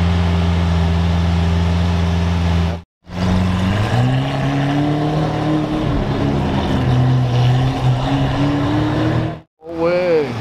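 Lamborghini Aventador engine running loudly and steadily with a low droning tone that rises in pitch midway, interrupted by two short silent gaps, with people talking nearby.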